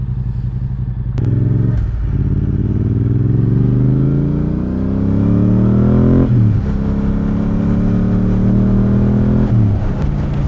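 A Yamaha R7 sport motorcycle pulls away slowly, its engine revving steadily up through the range in rising sweeps with brief dips at gear changes, loud and close with no talk over it.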